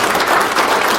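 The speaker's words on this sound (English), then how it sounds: "give yourself a round of applause" An audience applauds at a Toronto Caribbean community team-of-distinction event, dense steady clapping filling the whole brief moment with no break.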